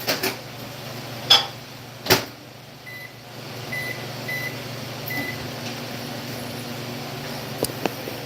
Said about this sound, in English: I microwave my butter